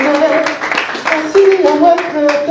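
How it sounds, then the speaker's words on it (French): An audience claps through a short burst of applause at a performance, with singing or music carrying beneath the fairly loud, irregular patter of hands. "Est-ce qu'on peut applaudir pour ces garçons?"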